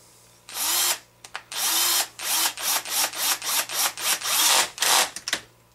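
A power drill drives screws down through the top of a Turtle Racing HD clutch brake assembly on an HPI Baja 5B, in a run of loud close bursts of whirring and ratcheting with brief pauses between them, no talking.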